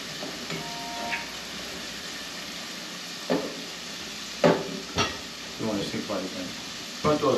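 Vegetables, garlic, salt and pepper simmer and sizzle in a pan before rice goes in for a gluten-free risotto, a soft continuous hiss broken by occasional clinks and stirring knocks, with faint voices in the background.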